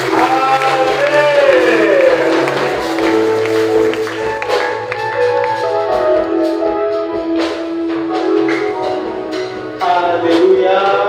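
A church congregation at a Sunday service cheers loudly, a continuous, full crowd roar that carries on throughout alongside musical tones, with brief peaks of louder voices.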